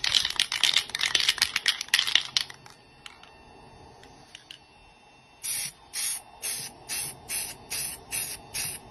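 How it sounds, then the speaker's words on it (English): Rust-Oleum black spray paint hisses onto a canvas, first in a dense run of short bursts, then after a quiet pause in about nine evenly spaced on-off pulses, close and crisp, with no talking. "you don't just spray one solid spray, you're on, off, on, off, on, off"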